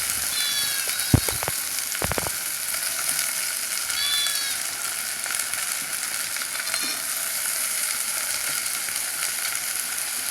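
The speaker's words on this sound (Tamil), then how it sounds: "அப்படியே இந்த பிரண்டையை கொஞ்சம் நேரம் வாட்டணும்" Chopped pirandai (adamant creeper) roasting in a pan with garlic, a steady soft sizzle throughout, with a few sharp scraping stirs of a spoon against the pan early on.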